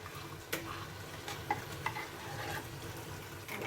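Smoked chicken in palm nut sauce is stirred in a pot, a few soft scrapes and clinks over a quiet steady simmering sizzle, with no talking.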